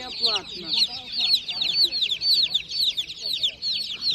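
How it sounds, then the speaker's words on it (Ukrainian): Several chickens at a livestock market in Kolomyia, Ukraine, cluck and chatter continuously at close range, their sharp calls overlapping in a busy, lively stream. "вибираю чесно курей, тако дивлюся ці"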